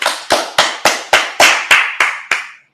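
A congregation at a Sabbath service claps in unison: nine sharp, evenly spaced claps about a quarter second apart, loud and close, ending in quiet with no talking.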